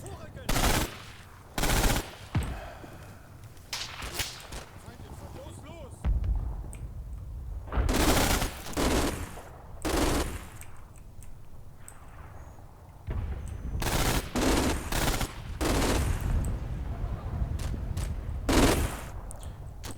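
Heavy and medium machine guns fire in the World War II game Combat Mission at Lanzerath Ridge, with repeated loud bursts and scattered shots against a quieter battlefield rumble between volleys.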